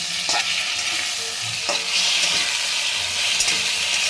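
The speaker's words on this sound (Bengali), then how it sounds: "মশলাটা আমি এই আলু বেগুন ভাজাটার মধ্যেই দিয়ে দেব দিয়ে একটু নাড়াচাড়া করে নেব" Ground cumin and radhuni spice paste is stirred into fried potato and eggplant in a hot pan, with a steady sizzle and several scraping spatula strokes close by, and no talking.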